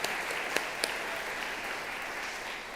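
An audience applauds Scott and his team at a teacher-salute event in a Santa Barbara arts venue, steady distant clapping filling the room at low level, with a few sharper nearby claps early on.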